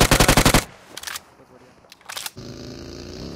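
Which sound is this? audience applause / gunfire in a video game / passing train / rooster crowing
gunfire in a video game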